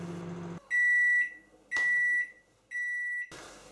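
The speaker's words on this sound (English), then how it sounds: "Once the bleeper's gone, just leave it for 1 minute extra to stand." A microwave oven cooking a lemon pudding sounds its done signal: three loud, even electronic beeps, each about half a second long, with short gaps between them and a quiet room around them.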